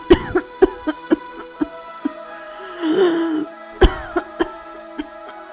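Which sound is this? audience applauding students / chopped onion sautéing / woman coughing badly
woman coughing badly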